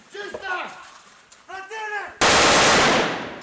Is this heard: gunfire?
yes